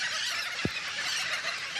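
A dense nesting colony of royal terns calls in a continuous, loud chorus of overlapping harsh cries, with one brief low thump standing out near the middle.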